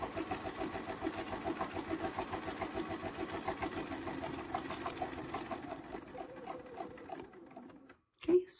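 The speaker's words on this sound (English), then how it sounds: "So a little tacking at the beginning, some smaller stitches, and then just proceed to the corner." A sewing machine stitches a quilt panel with a fast, rhythmic mechanical chatter that gradually slows and stops, followed by a short clunk near the end.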